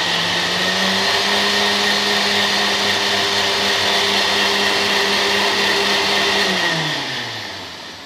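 A blender mixing coffee with water and coconut oil whirs loudly and steadily for several seconds, its motor pitch holding constant before winding down at the end.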